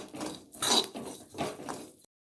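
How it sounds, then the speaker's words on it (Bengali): A ground fenugreek and black cumin paste is stirred in a hot wok with oil, producing rhythmic, gritty scraping strokes that swell and fade in quick succession before stopping abruptly. "দিয়ে এবার আমি কিছুক্ষণ নাড়াচাড়া দিয়ে দেবো যাতে এটা পুড়ে না যায়।"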